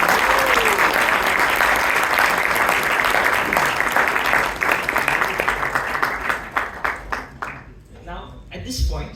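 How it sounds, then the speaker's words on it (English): Applause for evaluators from an audience at a Toastmasters meeting in Bangalore: loud, dense clapping that holds steady, then thins into scattered claps and fades near the end. "Can I have a huge round of applause for both our evaluators?"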